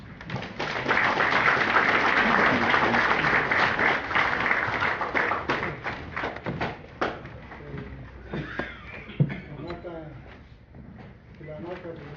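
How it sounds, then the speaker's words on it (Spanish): An audience at a book presentation breaks into loud, dense applause that lasts several seconds and then fades, giving way to someone speaking into a microphone. "Damos un fuerte aplauso, hermanos y hermanas."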